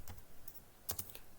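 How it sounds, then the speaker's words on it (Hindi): A few crisp, close taps on a computer keyboard, including a firm Enter key press, come as scattered clicks with one sharper double strike near the end, with no talking. "अब हम लोग इंटर करेंगे।"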